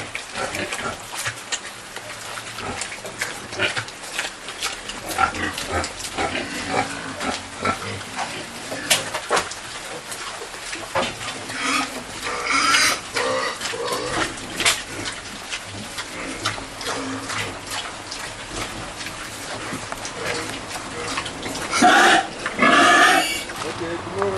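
Pigs on a pig farm grunt and oink through a continuous stretch, with scattered snorts and clicks over a busy, noisy background and a few louder outbursts near the end.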